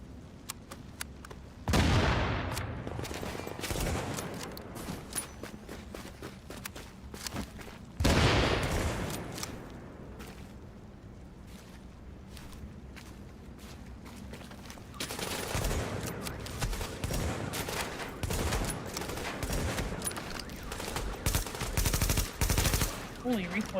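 Rapid automatic gunfire in Tom Clancy's The Division video game, sustained loud bursts separated by brief pauses, fast rattling volleys near and heavy, with quieter stretches between.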